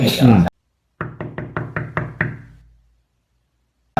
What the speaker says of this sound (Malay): bunyi ada ketuk-ketuk dinding